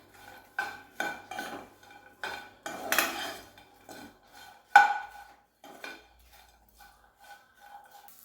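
Spoon scraping and clinking against a pan while corn kernels are stirred over low heat to coat them with spices for crispy corn, a series of irregular metallic taps and scrapes, close and fairly loud.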